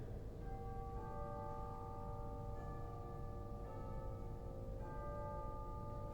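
Soft chimes of a 1922 Wangerin pipe organ in a Catholic church ring out as sustained bell-like tones, with several struck notes entering in sequence over a steady bed of organ sound.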